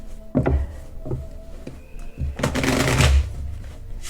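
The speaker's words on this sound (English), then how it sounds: "I find this particular deck very difficult to shuffle." A stiff, hard-to-shuffle deck of cards is riffled by hand, with a few sharp taps and snaps followed by a dense, buzzing riffle burst, close and loud with no talking.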